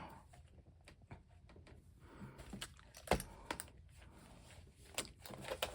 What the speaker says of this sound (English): you can hear the snaps clip